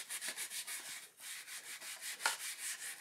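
Abrasive pad scrubbing black brake pad marks off a Skyway Tuff 2 BMX wheel with light pressure, giving a steady rhythmic rubbing, each stroke a soft scratchy swish repeated about every quarter second, close and alone.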